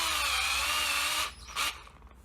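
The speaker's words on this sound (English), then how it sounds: "I use a nut spinner on the battery operated drill." A battery-powered drill fitted with a nut spinner whirs steadily and loudly while tightening a bolt to set a rivnut threaded insert, then stops abruptly, followed by a brief second burst and quiet handling.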